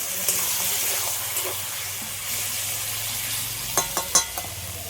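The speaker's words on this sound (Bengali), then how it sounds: "কাঁকরোলটা সিদ্ধ হওয়ার জন্য অল্প করে একটু জল দিয়ে দেবো" Teasel gourd (kakrol) frying in a pan, with a steady loud sizzle and hiss throughout and a few sharp clinks near the end, as a little water goes in.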